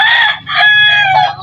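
Roosters crowing loudly and close in a farmyard of chicks and hens, three drawn-out crows in quick succession with faint clucking underneath.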